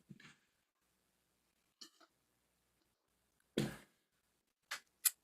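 Coughing after a hit of cannabis comes in a few separate bursts: a short rough cough, a softer one, then a loud close harsh cough and two sharp ones near the end, with silence in between.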